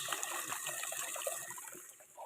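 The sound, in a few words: water flowing from a pipe into a cattle trough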